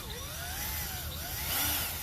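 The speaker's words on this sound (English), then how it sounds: "a power drill." A power drill with its clutch set low drives fasteners while assembling a Hampton Bay Crestridge steel padded sling swivel patio lounge chair, giving a close, steady motor whine that wavers in pitch for about two seconds.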